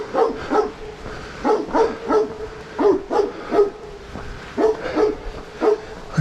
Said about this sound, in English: He's got a rare bark on him.